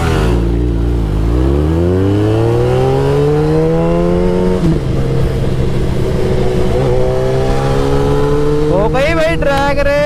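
A Suzuki Hayabusa and a Yamaha R15 drag racing, one engine roaring up through the gears in rising, loud revving sweeps that dip at each shift, with a second high-pitched engine screaming in near the end.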